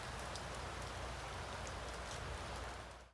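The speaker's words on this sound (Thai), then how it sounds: "เสียงฝนมาแล้วครับพี่น้องครับ" Steady rain pours down in a forest, a dense continuous hiss of drops on leaves and ground, loud and close, with no voices.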